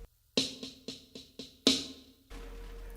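Snare-style six-stroke roll rudiment, six rapid strokes with the opening and closing notes accented and a softer inner group, played solo up close before a low hum takes over.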